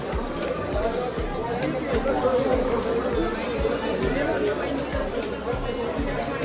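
A dense crowd at Kedarnath fills the air with constant overlapping chatter and babble, steady and close, with scattered footsteps and knocks mixed in.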